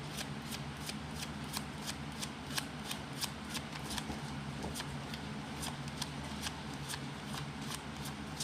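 A deck of Bicycle playing cards riffled repeatedly, crisp close shuffling bursts in an even rhythm over a low steady background hum, with no talking.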